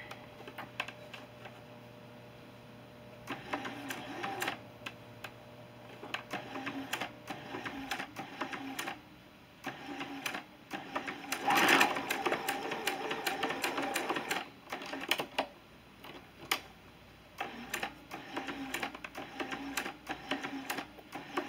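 A sewing machine runs a stay stitch just under a quarter inch from the edge of very stretchy fabric, its needle chattering in uneven bursts separated by short pauses, moderately close and with no talking.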